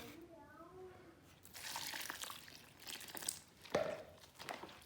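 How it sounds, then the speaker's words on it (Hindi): Water splashes and pours into a bucket while wheat starch is being made, a fairly faint, uneven gush with small spikes of splashing and a soft background murmur. "इसमें और पानी डाल दूंगी मैं।"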